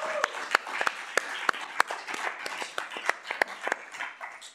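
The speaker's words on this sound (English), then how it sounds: "Let's give them a round of applause." A small audience at a student involvement center event gives a round of applause: scattered, fairly faint individual claps lasting a few seconds.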